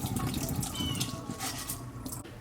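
Tap water runs steadily and softly into a bowl while rice is rinsed, a continuous splashing wash with no voices.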